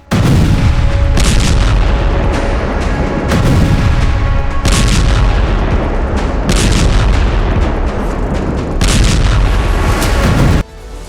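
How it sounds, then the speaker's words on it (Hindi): Heavy Israeli bombing in Gaza: a relentless, loud barrage of deep booms and blasts, repeated bursts rolling every few seconds with dense rumbling between them, close and overwhelming throughout. "गाजा में इजराइल की भीषण बमबारी"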